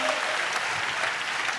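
A church congregation claps together in praise, a dense steady wash of applause with a faint voice in the mix.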